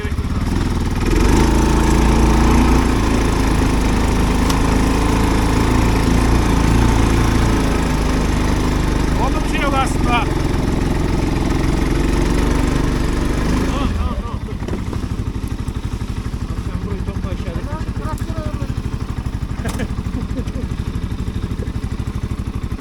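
A Segway 570 ATV engine runs loud and close, buzzing hard with revs for about fourteen seconds, then dropping to a lower idling rattle.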